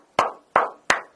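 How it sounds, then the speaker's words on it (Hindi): Three sharp, evenly spaced hand claps ring out close and clear in a quiet room, each with a brief decaying echo, followed by the start of a fourth. "ये आवाज, मैंने जो ताली बजाई"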